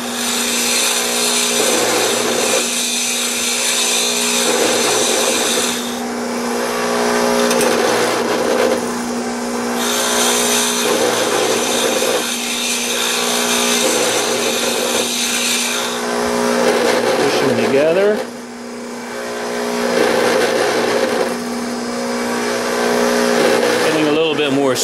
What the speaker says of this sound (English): I need to grind a little bit more off